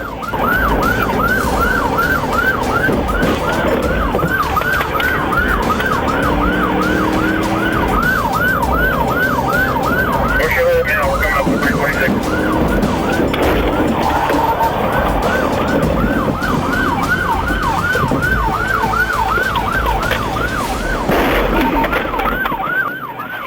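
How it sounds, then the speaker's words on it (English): A police car siren wails continuously in a steady repeating cycle, loud and close throughout, with engine and road noise from a high-speed dashcam pursuit on a highway through a construction zone. "Deputy McGuigan flips on the siren"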